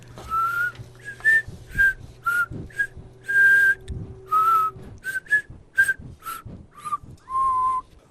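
Melodic whistling of a folk-like tune on a mountain path in a Korean audio drama, a run of clear phrases with short gaps, mid-close and fairly loud over a faint low hum.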